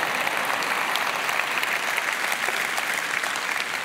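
A large church-style audience claps in sustained, dense applause for a few seconds, a steady wash of many hands with no talk.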